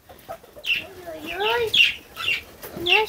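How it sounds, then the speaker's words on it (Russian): A rooster and hens on a farm cluck and crow in repeated bursts, fairly close and moderately loud, with a few sharp calls over a low background. "Это петушок."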